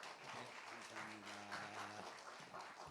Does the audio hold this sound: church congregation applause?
yes